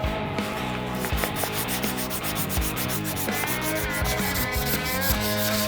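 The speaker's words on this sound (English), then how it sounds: "we're gonna go ahead and clean it up" Emery cloth scrubbing the rusty mating surface of an axle, a continuous close rasping rub with quick back-and-forth strokes, no voices.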